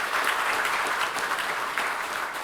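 Sustained applause from an audience at a national assembly policy debate on rice prices and food sovereignty, dense steady clapping filling the room throughout without pause.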